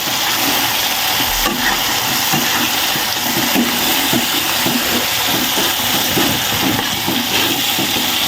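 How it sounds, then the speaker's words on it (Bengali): Spice masala stir-frying in hot oil for a rohu fish curry with pumpkin bori, giving a steady, dense, close sizzle that runs unbroken throughout with no voices. "আমি মশলাটা খুব ভালোভাবে কষে নিয়েছি, তেল ছেড়ে দিয়েছে মশলা দিয়ে।"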